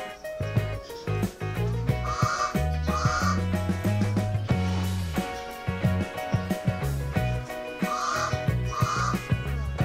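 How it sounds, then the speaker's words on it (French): A crow caws repeatedly from a neighbour's wall in Brazzaville, harsh calls in pairs, under prominent music. "Il y a un vilain corbeau qui est en train de crier depuis le mur de nos voisins."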